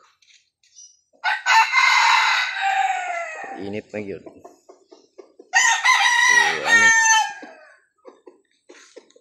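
Two loud crows from a labuyo (Philippine wild junglefowl) rooster ring out close by, separated by a pause, with scattered clucks and soft chicken sounds between and after them in a backyard flock.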